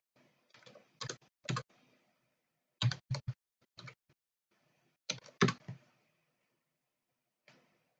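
Keys on a computer keyboard clatter in short bursts of quick, close clicks separated by pauses, entering an IP address on a Windows machine; fairly quiet room, no talking.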